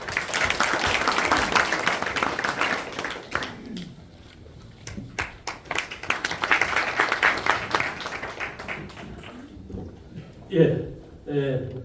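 Dense applause fills a forum audience at an opening ceremony, loud and sustained for several seconds, then thins into scattered claps before a voice begins speaking near the end.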